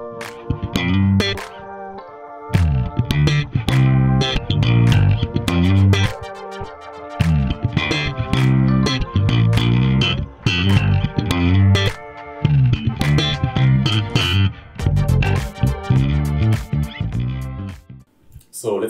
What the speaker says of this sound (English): I actually added some slap intro.